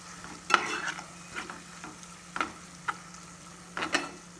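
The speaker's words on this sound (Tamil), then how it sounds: "இப்போ இதை நல்லா வந்து வதக்கிக்கிறேன்." Egg gravy masala is sautéed in a pan with a soft, continuous sizzle, punctuated by several sharp spatula scrapes and clicks against the metal.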